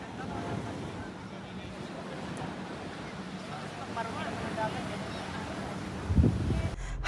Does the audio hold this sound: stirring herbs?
no